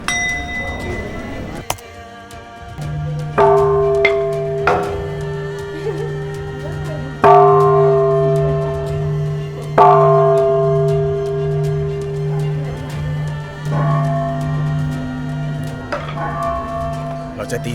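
Temple bell at Mahamuni Pagoda in Myanmar rung repeatedly, clear ringing strikes every few seconds with long sustained tones fading between hits, close and loud over a low drone.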